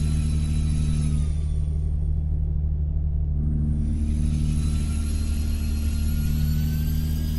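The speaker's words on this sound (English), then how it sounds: "Listen to that turbo whine." Truck engine with turbo whine in Euro Truck Simulator 2, a steady loud drone with a rising high whistle that fades briefly mid-clip before building again, continuous and without talk.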